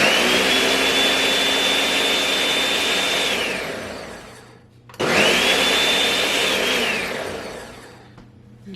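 An electric mixer whirs loudly through gluten-free figgy pudding batter made with coconut flour, running in two long bursts that each wind down before it stops.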